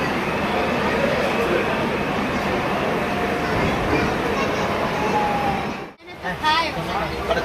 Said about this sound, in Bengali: আমাদের ট্রেনও দিয়ে দিয়েছে পদাতি এক্সপ্রেস এই যে ট্রেন ঢুকে গেছে